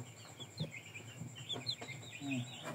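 Indio Gigante chickens, a large imported breed, give soft scattered clucks and low calls over a faint steady background hum, with a few short bird chirps mixed in.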